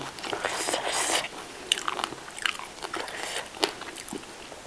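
Close, loud crunchy bites into crispy deep-fried pork belly eaten with Isan papaya salad (tam sua), with several sharp cracks followed by softer chewing.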